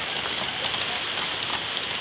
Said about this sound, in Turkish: Evet arkadaşlar yağmur.